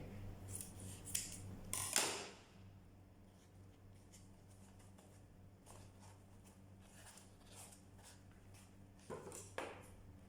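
Scissors snip through cardboard in a few crisp, close cuts near the start, then quieter handling and a couple more snips toward the end, with no talking.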